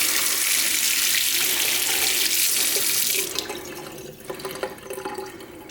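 Water from a Moen faucet with a 1224 cartridge runs steadily and loudly into a sink for about three seconds, then is shut off, leaving scattered drips and faint trickling.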